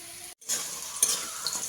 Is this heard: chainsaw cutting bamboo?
no